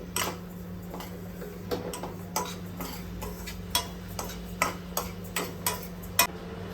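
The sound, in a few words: roasted sesame seeds being taken out of the pan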